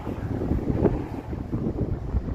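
Blustery wind on a Toronto street buffets the microphone, a steady low rumbling roar with small gusts and no voices.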